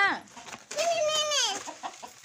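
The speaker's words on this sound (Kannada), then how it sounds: "ಹೆಂಗೆ ಒದರ್ಕೊತಿತ್ತು ಕೋಳಿ ಎಲ್ಲ" A hen calls out loudly with a drawn-out, rising-and-falling squawk, with softer clucks around it and a voice speaking faintly underneath.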